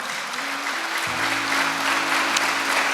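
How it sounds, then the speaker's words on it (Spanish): Church congregation clapping loudly at a Sunday service, a steady wash of applause under low sustained organ or keyboard tones that enter midway. "Aplauda fuerte."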